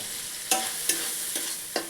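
Tomato paste, ginger-garlic paste, cashews and raisins fry in a pan, a steady sizzle broken by four crisp scrapes of a spatula stirring at an even pace.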